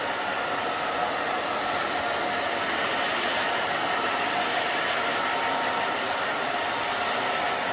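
Hair dryer drying a pixie cut, a loud, continuous close-up whoosh of air that stays steady and unbroken for the whole stretch, with no voices over it.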